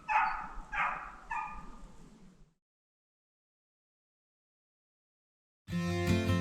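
Beagles out in snowy hunting country bark and yip in quick bursts for a couple of seconds, close and clear, then fall silent before a louder, dense burst of sound returns at the end.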